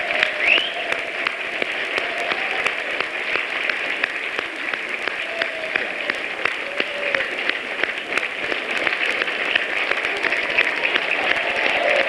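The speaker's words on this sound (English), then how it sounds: "Let's give her a DNC big round of applause to Speaker Pelosi for coming and being with us today." Sustained, dense applause from a large audience at a Democratic National Committee event welcoming House Speaker Nancy Pelosi, an even roar of many hands clapping throughout with no speech.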